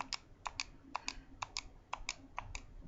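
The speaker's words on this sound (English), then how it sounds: "it's very clicky" Clicky buttons on a Rock Candy PS3 controller being pressed during a Super Meat Boy game, a dozen or so sharp, close plastic clicks in an uneven rhythm, alone without talk.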